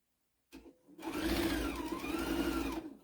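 A sewing machine stitches a tea towel, starting with a short burst and then running steadily in a close, loud, even whir with a rhythmic mechanical patter.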